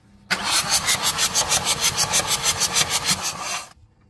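A 2015 Mitsubishi 4N14 diesel engine, mid top-overhaul, cranks with a fast, steady rhythmic churning of about eleven strokes, loud and close, for roughly three seconds before cutting off.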